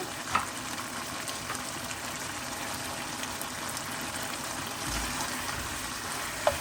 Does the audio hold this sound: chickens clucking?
no